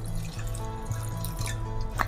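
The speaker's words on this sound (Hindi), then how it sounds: "2 मिनट इसे अच्छे से फेंटने के बाद मैं इसमें पानी ऐड कर रही हूँ।" Water being poured into whipped cream (malai) while making homemade ghee, a close, steady liquid trickle and dripping, with a continuous low hum running underneath.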